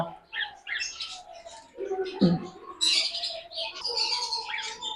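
Caged cockatiels, including black cockatiels, and lovebirds in a bird shop chirp and squawk in a busy overlapping chorus, close and fairly loud, with scratchy calls and some bursts of shrill chatter.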